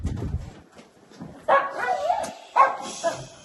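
Dogs barking at a log home, a few sharp, loud barks in short bursts with whimpering and yips between them, close by.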